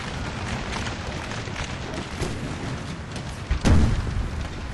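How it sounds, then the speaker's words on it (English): Cannons in a Napoleon: Total War battle fire canister shot as a muffled, continuous rumble of distant booms, with one louder, closer blast near the end. "And they keep putting canister shot after canister shot down."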